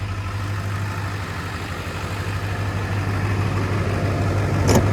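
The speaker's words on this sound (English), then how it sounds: "Got a 5-inch exhaust all the way through, so this thing sounds absolutely amazing once you're getting on it." Idling truck engine with a 5-inch exhaust and turbo, a steady deep low rumble close by that builds slightly toward the end, with no talk.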